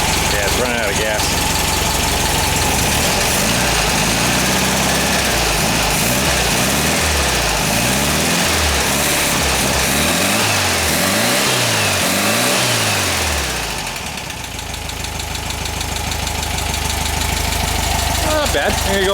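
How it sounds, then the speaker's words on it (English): A VW double cab engine idling close by, loud and uneven, surging and sagging as it runs out of gas and briefly faltering near the end, with people talking over it. "Yeah, it's running out of gas."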